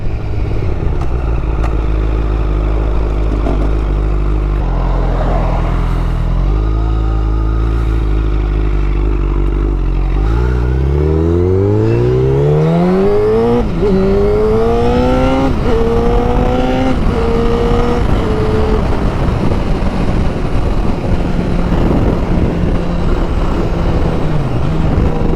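A Honda CBR1000RR sport bike with 53,000 miles on it, heard while riding, idles low and steady, then revs up through the gears in rising sweeps with quick-shifter upshifts, ending in a loud, sustained roar with wind noise.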